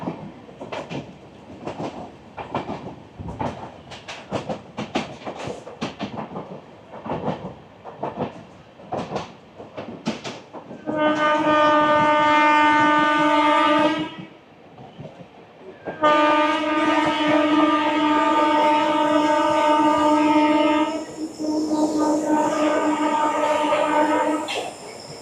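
Sairang Kolkata Express passing Azimganj City station: rhythmic wheel clatter over rail joints for about ten seconds, then a loud, sustained two-tone train horn blasting twice with a short gap, close and dominant.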